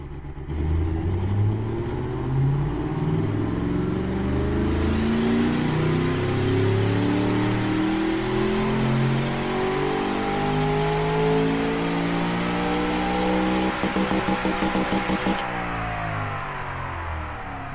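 A turbocharged engine in a simulated 2017 AMW Tiger with about 640 horsepower, heard in the Automation car-building game, revs up loud and close, its pitch climbing through the range with rising turbo whine before it cuts off.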